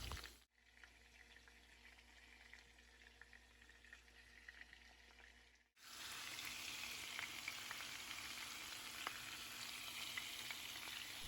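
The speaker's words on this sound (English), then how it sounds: "I'm doing it in a cast iron skillet. Make sure that oil is really hot so you can get a nice brown sear." Pork chops searing in very hot oil in a cast iron skillet: near silence at first, then a soft, steady sizzle with faint crackles that continues to the end.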